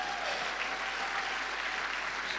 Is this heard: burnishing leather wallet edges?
no